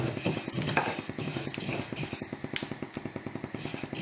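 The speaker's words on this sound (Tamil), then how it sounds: "இப்போ இந்த அரிசி படப்படன்னு பொரியுது பாருங்க." Rice dry-roasting in a pan crackles and pops in quick rhythmic bursts, mixed with scraping stirring and light metallic clinks of a spoon against the pan, moderately close and fairly quiet.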